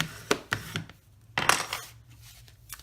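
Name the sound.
creasing a paper card with a bone folder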